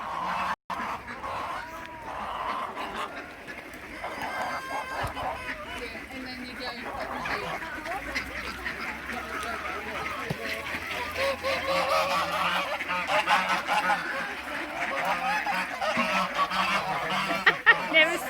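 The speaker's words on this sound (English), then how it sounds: "this place is just erupted with birds" A large flock of ducks and geese being fed bread honks and quacks continuously at close range in a crowded, busy chorus, growing denser toward the end, with voices talking over it.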